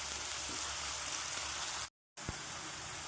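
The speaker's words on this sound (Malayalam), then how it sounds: "കൂടെ നമ്മുടെ പച്ചമുളക് രണ്ടും കൂടി നന്നായി വഴറ്റാം." Sliced onion and green chillies sauté in a pan with a steady hiss of frying. The sizzle is broken once by a brief silent gap, followed by a soft thump.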